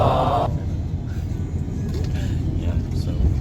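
A steady, low engine rumble fills the inside of a moving bus in Rio de Janeiro, continuous and fairly loud, with faint voices briefly in the background.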